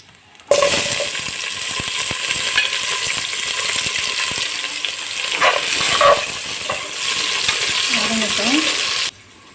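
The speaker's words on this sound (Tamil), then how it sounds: "வெங்காயத்தை நீல வாக்கில் கட் பண்ணி வச்சுருக்கேன் அதை சேர்த்துடலாம் இப்போ" Thinly sliced onions fry in a pan for peas pulao with a loud, dense sizzle that starts abruptly and holds steady. Frequent scraping and knocking of a stirring spoon runs throughout, and a couple of brighter clinks come near the middle.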